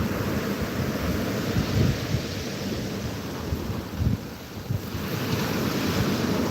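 Strong sea surf and gusting wind on Sarısu beach in Antalya under a cloudy, stormy sky, a continuous loud roar of breaking waves with heavy wind buffeting the microphone throughout, no talking.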